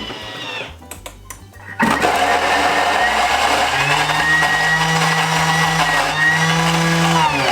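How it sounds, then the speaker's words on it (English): A Thermomix TM6 blitzes apples: a few short clattering pulses, then the motor kicks in loudly and whirs steadily, its pitch rising as the blades chop through the fruit. "And now it's going to blitz the apples."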